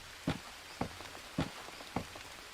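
Rain falling in the jungle survival video game Green Hell, heard as a steady patter with louder, regularly spaced drip-like impacts about every half second, with no talking.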